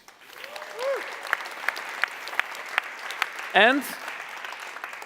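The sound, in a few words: applause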